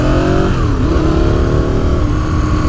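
A 2003 Aprilia RSV 1000R motorcycle engine revs loud and close, its pitch rising and falling through a couple of throttle blips over a constant roar.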